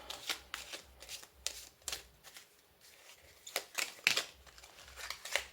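Tarot cards are shuffled by hand up close, soft riffling and slapping bursts in an uneven rhythm, quiet and with no talking.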